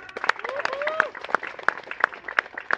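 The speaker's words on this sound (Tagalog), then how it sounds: "isa munang malakas na palakpak" Guests clapping at a house blessing, sharp claps falling in a regular, evenly spaced rhythm, with voices and a brief vocal sound underneath.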